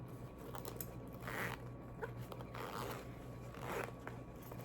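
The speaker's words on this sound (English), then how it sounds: "Then on the back, it has a zipper." A zipper on the back of a bag pulled in several short raspy strokes, close and quiet, with brief pauses between pulls and no talking.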